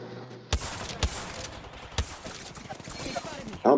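Pistol shots crack in the battle royale shooter Apex Legends, three sharp loud reports spaced about half a second to a second apart, then a final louder shot, over a background of game noise.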